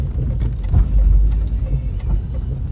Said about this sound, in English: Watch the traffic as they come racing down this road.